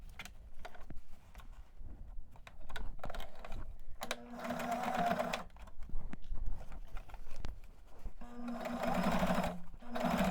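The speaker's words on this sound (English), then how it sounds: "Make sure that after you zigzag that you switch your machine back to a straight stitch." A sewing machine stitches the waistband of a pair of pants. It runs in two loud, steady whirring bursts separated by quieter handling sounds and clicks, all close up.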